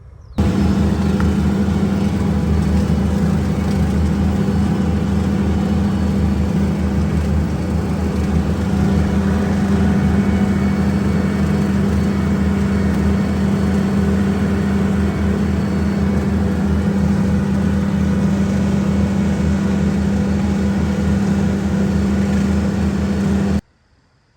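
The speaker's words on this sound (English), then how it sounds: "we'll fire the tractor up and get to cutting" A farm tractor's engine runs steadily and loudly for about 23 seconds at a food plot, holding a constant low drone before cutting off abruptly at the end; no one talks.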